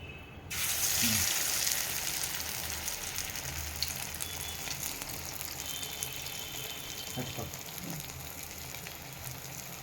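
Corn vadas dropped into hot oil to fry, a sudden loud hiss and bubbling that sets in after a brief pause and continues steadily, close by, with faint handling sounds and no clear talk.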